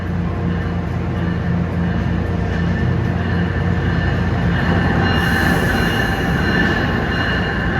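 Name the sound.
Amtrak Crescent train arriving on track 2, Newark Penn Station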